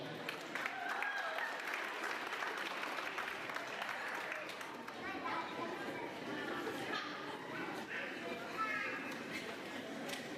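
Applause fills a graduation ceremony hall, a steady wash of clapping from a crowd, with some chatter mixed in.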